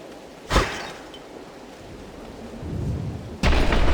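A thunderstorm rumbles in the video game Hades II, with a sharp nearby thunder crack, steady rain hiss, a building low rumble and then a second loud thunderclap near the end.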